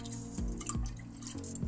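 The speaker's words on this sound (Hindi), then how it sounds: "मैंने 1 किलो पालक लिया है तो मैं 100 ml पानी डाल रही हूँ" Water poured from a vessel onto about a kilogram of freshly washed spinach in a home kitchen, a soft, close, continuous splashing trickle with a few gurgling drips, quiet and with no voices.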